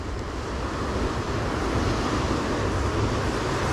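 Ocean waves breaking on rocks along the Chilean coast on a cold, pitch-dark night while fishing for corvina, a loud, continuous broadband roar of surf mixed with wind buffeting, no speech.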